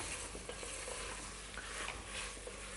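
Onions stirred in a hot pot for chicken carri, a dense steady hiss of frying with faint scraping underneath, continuous and fairly close.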